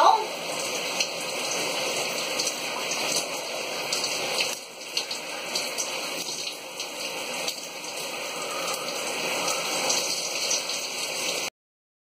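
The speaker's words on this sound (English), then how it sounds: "Rinse that out really well." Shower water spraying steadily while rinsing out naturally curly hair, a dense close hiss of falling water with small splashes and gurgles, cutting off abruptly at the end.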